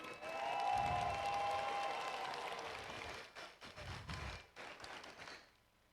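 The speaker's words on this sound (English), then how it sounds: "let's please give them a wonderful round of applause" Spectators at a FIRST Robotics FRC state championship award segment clap for the judges, a broad arena applause that fades midway, with a few low thuds underneath and a faint tone lingering early on.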